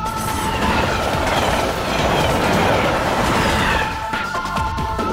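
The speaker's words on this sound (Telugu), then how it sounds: "అదిగో ట్రైన్ వస్తోంది" A train rolls loudly along the rails, a heavy continuous rumble with faint squealing wheels and clatter, close by and without voices.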